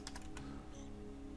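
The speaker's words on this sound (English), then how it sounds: "So we come in here and we type in box" Quick, close clicks of a computer keyboard as a short word is typed, a few crisp keystrokes in a quick burst over a low steady room hum.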